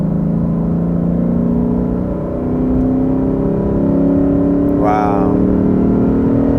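A Lexus RC F's naturally aspirated engine roars loudly through its exhaust, a steady deep drone that swells as it revs, with a brief voice exclaiming over the sound near the end.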